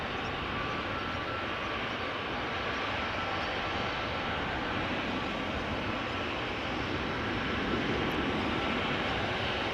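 A jet airplane roars steadily on a runway at Amsterdam Schiphol Airport, a broad, continuous engine rumble holding loud and even throughout.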